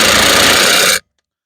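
A variable-torque impact gun set to 100 Newton meters tightens wheel nuts on a Smart Car 453, giving one loud, dense buzzing burst of about a second that stops abruptly into silence.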